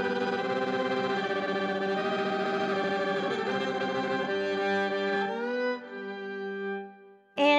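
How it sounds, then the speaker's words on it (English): A bowed violin played through an octave effects pedal with added reverb, a thick layered sustained tone with doubled pitches that shifts notes near the end and briefly restarts, loud and without speech. "I'll add a little reverb just for this purpose."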